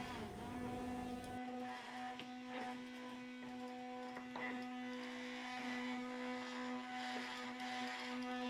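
A Ninja blender runs steadily, grinding tomato peels into powder: a close, constant motor whine with a strong steady tone, kicking in after a brief softer start and holding at even loudness throughout.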